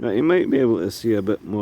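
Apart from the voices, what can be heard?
No everyday noise stands out behind the speech.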